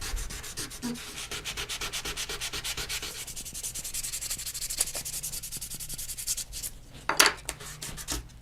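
A wooden guitar bridge is sanded by hand at 320 grit, a close rhythmic scratchy rubbing of quick back-and-forth strokes, steady for most of the time before slowing near the end.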